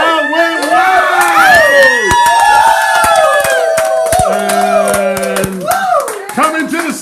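A crowd cheers, whoops and claps at a saxophone recital, loud and lively with shouting voices rising and falling over steady applause.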